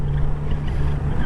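Kawasaki Z900RS motorcycle engine running smoothly at low speed on a test ride, a steady low rumble mixed with constant wind noise, with no talk.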